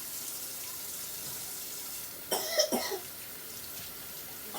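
A young boy coughs a few times in quick succession in a home kitchen, with faint running water from a tap in the background.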